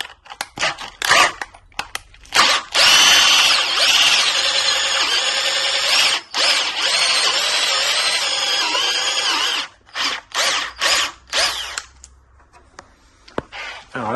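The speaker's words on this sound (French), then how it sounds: "Alors là, ça va être plus compliqué pour percer là-haut." A power drill bores into a Bluetran Lightning electric scooter during a linkage change. One long, loud, steady drilling run is followed by several short stop-start bursts as the bit bites, with gaps of near silence between.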